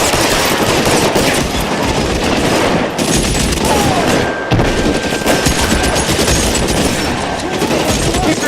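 Gunfire in the LA Noire police shootout, dense and loud with rapid overlapping machine-gun bursts and shots that barely let up, close and continuous.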